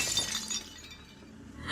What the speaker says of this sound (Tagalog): Pilit na binasag ang salamin.